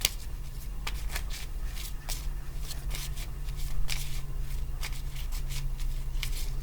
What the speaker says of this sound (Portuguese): A pessoa volta a embaralhar